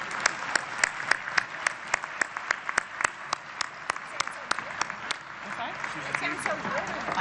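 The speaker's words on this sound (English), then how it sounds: "Give them another round of applause, please." A crowd applauds a pipe band steadily at the New Jersey General Assembly, with sharp individual claps standing out at an even, rhythmic pace before the clapping thins out.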